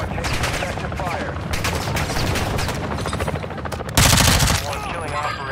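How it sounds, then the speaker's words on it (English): Video game gunfire rattling in continuous automatic bursts, loud and dense, with a heavier blast near the end and a radio voice speaking over the action. "You are taking effective fire."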